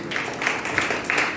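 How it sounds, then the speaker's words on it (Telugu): A church congregation at a Friday worship service breaks into applause in four or five short swelling bursts of clapping. "చప్పట్లు పడదాం ఒక్కసారి"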